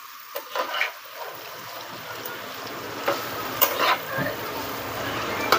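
Paneer cubes dusted with salt and red chilli fry on a hot tawa until crispy, giving a steady close sizzling hiss while a utensil stirs and scrapes them in short, irregular strokes.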